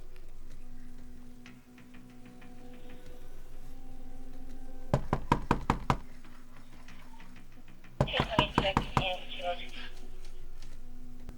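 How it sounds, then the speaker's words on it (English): Knocking on an apartment door in a hallway: two bursts of about six sharp, loud raps each, a short pause between them, over a steady low room hum with faint background talk. "When knocking failed to elicit a response"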